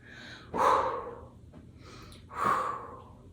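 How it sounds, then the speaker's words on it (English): A person practising a health breathing exercise takes two audible breaths, each a sharp, rushing inhale followed by a softer exhale, close to the listener with no speech. "Breathe in through the nose and out the mouth."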